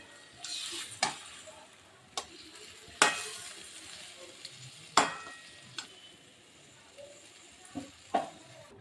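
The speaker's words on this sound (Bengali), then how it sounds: "এখন আমি পাঁচ সাত মিনিট মাংসটাকে একটু কষিয়ে নেবো" Chicken pieces being stir-fried (kosha) in a pan, a quiet low sizzle broken by sharp, intermittent clacks and scrapes of a spatula against the pan, no voices.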